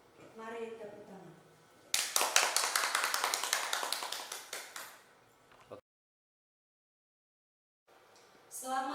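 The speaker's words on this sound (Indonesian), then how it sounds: "Mari tepuk tangan." Applause at a kindergarten graduation ceremony: a burst of rhythmic clapping from a group that fades out, with a voice speaking before it and again after a short silence.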